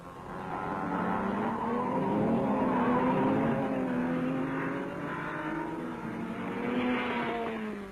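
Racing cars roaring past at about 101 mph during the 1961 24 Hours of Le Mans, engine notes rising and falling as they sweep by, loud and continuous.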